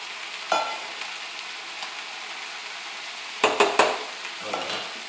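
Onions frying in a pan for pissaladière, a steady soft sizzle with a sharp clatter of stirring near the start and a cluster of louder scraping stirs toward the end.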